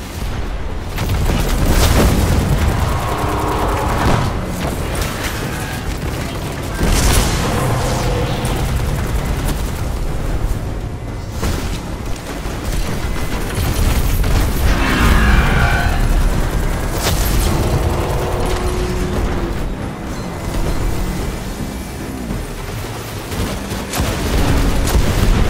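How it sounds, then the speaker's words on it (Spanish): Heavy explosions and weapon fire in the sci-fi shooter Destiny 2, a dense, continuous battle din of repeated booms and blasts that stays loud throughout. "Sentimos esas explosiones desde aquí"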